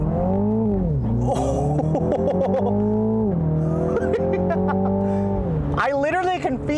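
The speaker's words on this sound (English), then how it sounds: "Let's see how the launch control works with this car" A 2021 Mini Cooper JCW GP with an 8-speed automatic makes a launch-control start, its loud engine note climbing and shifting in steady harmonic steps. Brief squeal-like bursts near the end suggest the front tires fighting for grip.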